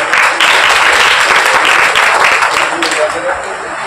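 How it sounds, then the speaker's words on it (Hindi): A crowd at a local committee function applauds with strong, steady clapping that tapers slightly toward the end, while a voice speaks over it. "जोरदार तालियां बजाएं।"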